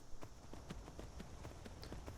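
Horse hooves clip-clop steadily in the Skyrim video game, an even walking rhythm of soft thuds at moderate distance, heard alone with no talking.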